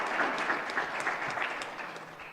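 A congregation at a spiritual community gathering applauds in a steady wash of clapping that gradually tapers in loudness, with scattered crisp claps poking above the crowd.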